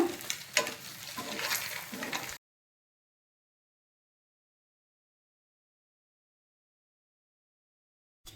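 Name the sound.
biryani spices frying in hot oil for egg curry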